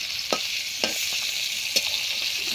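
Fish sizzling in a frying pan, a steady bright hiss of hot oil with a few soft clicks and scrapes as the pieces are turned over.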